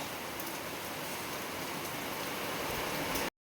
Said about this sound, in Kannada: ಸೊ ಬಿಸಿಲೂ ಐತೆ, ಮಳೆನೂ ಜಾಸ್ತಿ ಬರ್ತೈತೆ